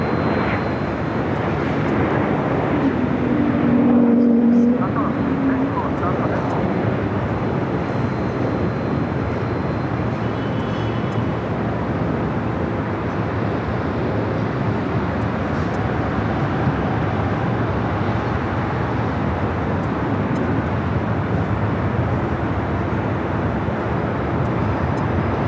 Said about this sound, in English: A heavy takeoff on the south side